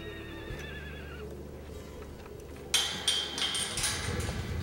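Horses whinny and neigh in a pen of mostly mares with a few geldings at a horse sanctuary, a drawn-out call early on followed by louder stomping and clinking close by.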